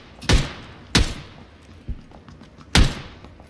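Gunshots in PlayerUnknown's Battlegrounds: three sharp, loud cracks spaced about a second or two apart, with a fainter thud between them, over quiet background.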